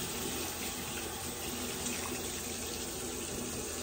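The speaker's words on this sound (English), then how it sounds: "I'm gonna wash my hands." Steady, close stream of water running from a tap into a sink during handwashing, a constant broadband rush with no talking.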